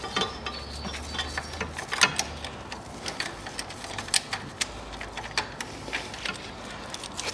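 Hand tools work loose the bolts on the timing belt cover of a 2003 Mitsubishi Colt 1.5, giving close, irregular metallic clicks, ticks and ratcheting taps over a quiet background.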